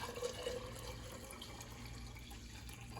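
White vinegar poured into a mason jar of water for a pickled-egg brine, a steady soft liquid splash running continuously and fairly faint throughout.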